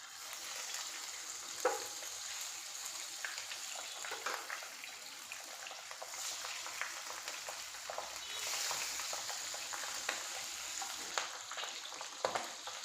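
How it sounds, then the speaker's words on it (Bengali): Pabda fish frying in mustard oil, a steady close crackling sizzle with scattered sharper pops throughout and no voices. "মাছগুলো হালকা করে ভেজে নেব।"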